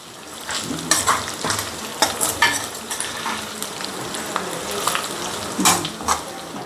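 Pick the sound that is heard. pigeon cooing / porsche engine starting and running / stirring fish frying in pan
stirring fish frying in pan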